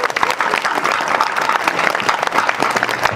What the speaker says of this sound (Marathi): यांच्याकरता खरंच एकदा टाळी वाजव.